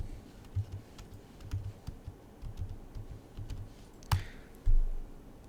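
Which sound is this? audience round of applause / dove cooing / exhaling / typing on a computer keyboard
typing on a computer keyboard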